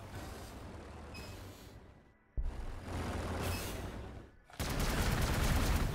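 Sustained bursts of rapid gunfire from units in the Warhammer 40k Gladius strategy game, loud volleys broken by two brief lulls, the final stretch heaviest.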